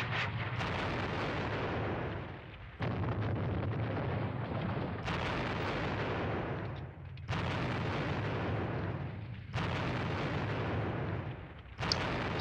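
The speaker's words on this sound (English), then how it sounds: "Yeah, it looks like a heavy barrage here." A heavy artillery barrage of incoming rounds in the Squad Battles video game, with five or six deep, loud explosions in succession, each swelling and rumbling for a couple of seconds before the next impact, and no talking.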